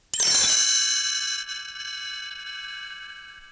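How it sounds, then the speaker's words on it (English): A single bright chime strikes and rings out, its shimmering tone slowly fading over several seconds in quiet surroundings. "You'll know it's time to turn a page when you hear the chimes ring like this."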